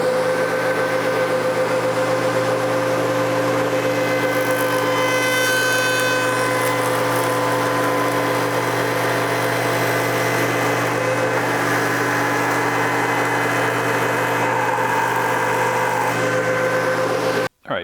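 A wood shaper cutting a 1 inch radius at the top of wooden table legs drones with a loud, steady whine and hum that stays level for many seconds, then cuts off abruptly at the end.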